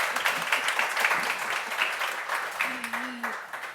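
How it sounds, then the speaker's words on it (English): A conference audience applauds in a dense, continuous patter of clapping that stays steady throughout, with a brief voiced sound near the end. "Can I ask you for an applause for them?"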